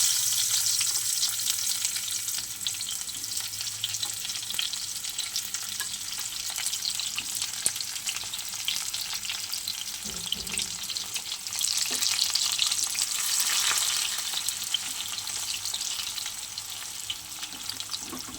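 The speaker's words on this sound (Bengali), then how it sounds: "কড়াতে তেল দিয়ে দিয়েছি, আমি এখন পেঁয়াজ দিয়ে দেবো।" Onions fry in hot oil in a wok (kadai), giving a continuous close crackling sizzle that swells and eases slightly over time, with no voices.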